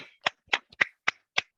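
Six sharp, separate claps spaced evenly apart, close and crisp with silence between them.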